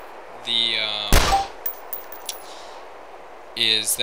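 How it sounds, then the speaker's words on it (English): A single loud, sharp, unsuppressed gunshot from the PW in the video game DayZ cracks up close, followed by faint clinks and softer tones before and after. "But with the PW, the shots are still heard because it's an unsuppressed weapon"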